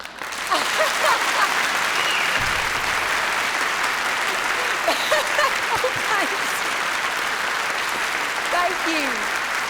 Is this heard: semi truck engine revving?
no